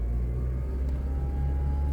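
A 2010 Honda Accord engine held at raised RPM, a steady close low rumble and hum that rises slightly as it is revved, with no talk over it.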